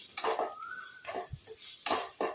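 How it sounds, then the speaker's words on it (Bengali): Ground spices fry in a pan while being stirred: a soft sizzle beneath four or five distinct, close scraping strokes of a utensil, with brief pauses between them. "সমস্ত গুঁড়ো মশলাগুলো আমি এর সঙ্গে ভেজে নিচ্ছি"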